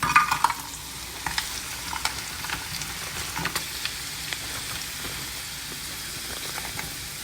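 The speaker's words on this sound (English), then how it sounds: "I'm gonna cook the shrimp first, and then I'm gonna saute the onions" Shrimp frying in a pan for quesadillas make a soft, continuous sizzle broken by repeated clicks and scrapes of stirring, moderately close with no talking.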